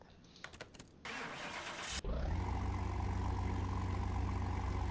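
A Porsche 911 S Turbo engine in Car Mechanic Simulator 2021 cranks briefly with a whirring starter, then catches and settles into a loud, steady idle rumble that fills the rest of the clip.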